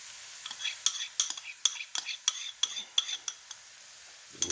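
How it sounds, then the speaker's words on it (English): A spoon scraping and clinking in a pan while sauce is stirred into a Thai spicy basil stir-fry, with a quick, irregular string of sharp metallic taps over a faint, quiet background. "Stir it up a little bit more."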